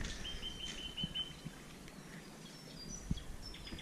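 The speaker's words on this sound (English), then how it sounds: "Birds." Birds call and chirp near a lakeside jetty in a short outdoor scene, with faint high tweets scattered throughout over light rustling and a few soft knocks.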